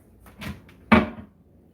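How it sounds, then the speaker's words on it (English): A drawer in an apartment kitchen slides and shuts: a softer rattling slide, then one sharp, close wooden knock as it closes. "We can put this thing in the drawer."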